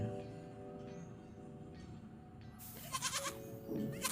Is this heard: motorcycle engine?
no